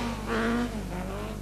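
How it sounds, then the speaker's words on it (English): Ronnie McCartney's HSR rally car driven hard on a stage of the 1983 Circuit of Ireland Rally, its engine note rising in a loud, strained surge before settling into a steady drone. "he flings the HSR from ditch to ditch in a highly spectacular fashion"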